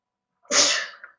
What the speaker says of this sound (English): I keep sneezing, excuse me.